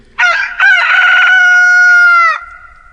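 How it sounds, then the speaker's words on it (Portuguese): A rooster crows once, loud and close, in a single long drawn-out call lasting about two seconds, with a short broken opening before the sustained note, heard alone in an otherwise quiet setting. "o galo cantou."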